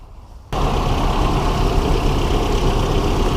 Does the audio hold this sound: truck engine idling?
yes